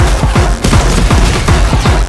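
Loud, dense barrage of explosions and gunfire in the video game Helldivers 2, rapid repeated booming thuds with a continuous crackling roar, no talking.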